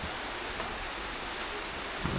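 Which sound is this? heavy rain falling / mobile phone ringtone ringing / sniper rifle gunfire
heavy rain falling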